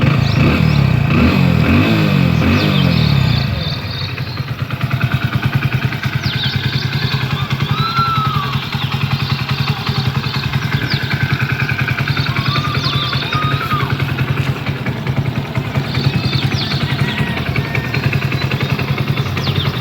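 A Hero Splendor Plus motorcycle engine cranks and catches, then settles into a steady, close, loud idle with a mechanical clatter that continues alone to the end.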